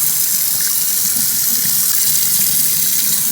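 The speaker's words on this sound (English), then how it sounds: "Pour it in there, let it drain." Water pours steadily from a pot into a sink while cooked gnocchi drains in a colander for a French onion beef gnocchi dish, a continuous close, loud splashing gush with no talk.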